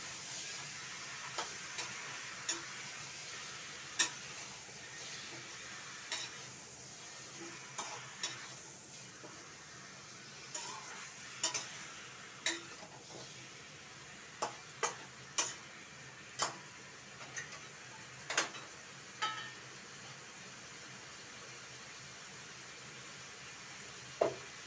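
Chicken pieces being stir-fried (koshano) in a pan for mutton biryani preparation, a steady low sizzle with scattered sharp ticks and scrapes of the spatula recurring every second or so, close and fairly quiet, with no talk.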